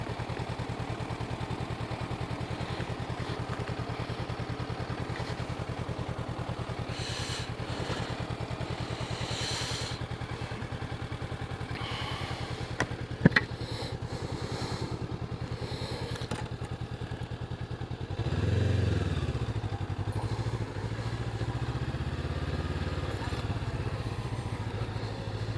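A Honda CB500X motorcycle engine running while being ridden, a steady low droning hum throughout with a brief knock midway and a slight swell in tone later on.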